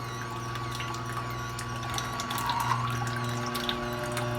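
An electric tomato strainer pressing tomatoes into pulp, with a steady motor drone and a wet churning flow running throughout, close and continuous, and no voices.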